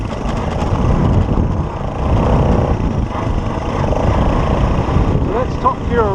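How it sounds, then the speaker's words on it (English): A Honda CT90 motorcycle in low range, its small engine revving and running continuously up through the gears, with someone talking over the engine noise. "So I'll take you through the gears just to give you an idea of"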